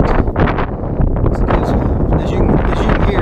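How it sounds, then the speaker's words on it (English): Steady, loud wind buffets the microphone in an open hay field during raking and baling, a continuous broadband roar with gusty swells and rustling, with no pauses. "As you can hear, it's windy."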